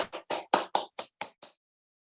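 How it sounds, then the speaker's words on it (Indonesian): Congregation in a church worship service clapping hands in praise, about eight distinct claps in a slowing, fading sequence, fairly close and alone without talk. "Kita berikan tepuk tangan bagi Allah kita."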